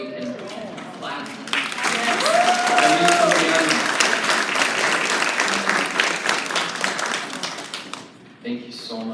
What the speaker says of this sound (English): would you 86. stand up so we can clap?